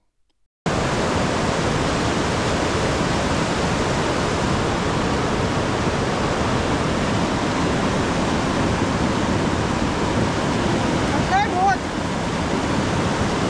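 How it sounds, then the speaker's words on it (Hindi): Cold glacier meltwater stream rushing in a mountain valley, a dense, constant roar of water close by, loud and unbroken throughout, with a brief faint sound near the end. "पानी देख के ग्लेशियर पिघल के आ रहा था और बिल्कुल बर्फ़ का ठंडा पानी"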